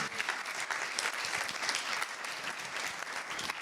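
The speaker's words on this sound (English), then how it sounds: "Round of applause." Steady, fairly soft applause from an audience at a business sales leaders' event, continuous clapping from many hands throughout.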